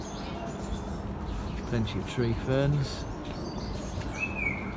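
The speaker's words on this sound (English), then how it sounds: "as you can probably hear, the birds like it as well" Birds chirp in a sheltered roof garden planted with ferns at the Canary Wharf Elizabeth Line station. The brief, faint calls sit behind someone talking close by.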